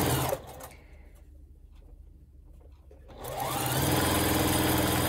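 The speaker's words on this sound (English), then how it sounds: "And when I sew these together, I just try to make sure that I like seams going opposite directions." A sewing machine stitches quilt block pieces together, its loud steady motor whir running, pausing briefly into quiet, then starting up again and holding at full speed.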